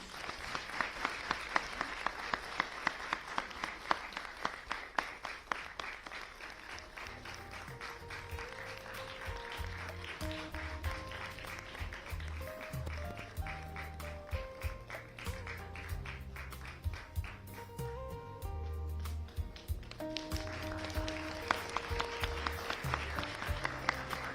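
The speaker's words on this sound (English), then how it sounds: "A big round of applause, please." An audience at a convocation ceremony applauds as a brochure is released, a long round of clapping mixed with music, moderately distant and continuing throughout.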